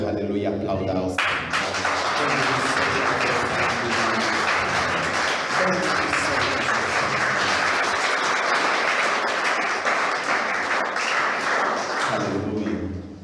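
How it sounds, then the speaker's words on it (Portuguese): A church congregation at an evangelical sermon breaks into loud, sustained applause after a short lead-in. The dense clapping continues for over ten seconds, blended with music and raised voices. "aplauda ao Senhor"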